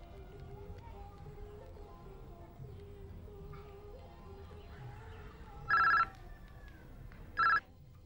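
Ringback tone from a mobile phone call in an Indonesian TV drama scene: two short electronic ringing bursts about two seconds apart, heard over a quiet background hum.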